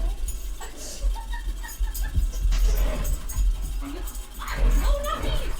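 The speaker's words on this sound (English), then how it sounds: "My dogs are currently playing." Two pet dogs playing indoors, whimpering and yipping in bursts while a person talks over them and laughs intermittently.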